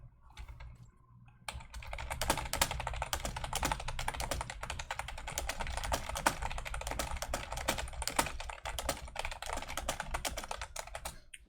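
Rapid, continuous typing on a computer keyboard, close and steady, with dense clicky keystrokes running for about ten seconds after a brief quiet start.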